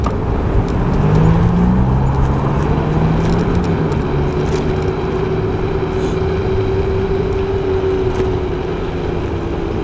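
Road traffic at an intersection, heard from an electric scooter: a loud, continuous roar of passing cars and engine drone with tire noise, a vehicle tone rising and falling across the scene.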